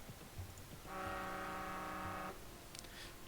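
A truck horn in the video game Dustland Delivery gives a single steady, moderately loud honk of about a second and a half over a low engine rumble, with no talking.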